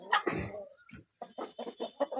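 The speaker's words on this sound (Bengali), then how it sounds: "ভিডিওতে দেখতে পাচ্ছেন অরিজিনাল কলম্বিয়ান অ্যাডাল বাহামা মোরগ" An adult Colombian Bahama rooster clucks up close in a quick series of short throaty calls, with a brief harsh squawk at the start and a pause midway.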